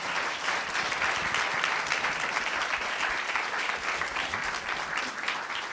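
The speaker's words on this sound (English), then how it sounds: "Please give them a round of applause." Steady audience applause fills the space, dense clapping from many hands continuing at an even level throughout.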